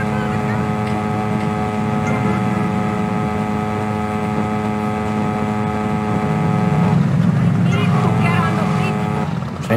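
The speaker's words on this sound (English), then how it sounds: "This moped's kind of loud." A moped engine in GTA Vice City droning steadily with a buzzing harmonic whine, loud and close throughout, rising slightly near the end with no talk over it.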